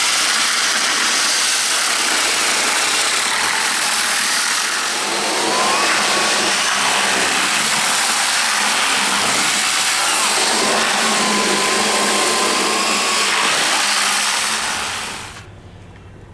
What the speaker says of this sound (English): Scott took the mixer and he actually mixed the epoxy and the rock together to get a full coat